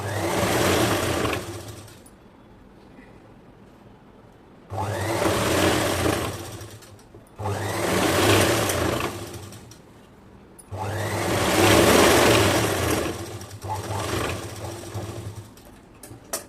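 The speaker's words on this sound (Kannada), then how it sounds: "ಈ ಎಡ್ಜ್ಗೆ ಒಂದು ಹೊಲಿಗೆನ ಹಾಕೊಳ್ಳಿ." Sewing machine running in four sustained bursts of several seconds each, stitching the edge of a ready-made dress top, with steady motor whir and short quiet pauses between runs.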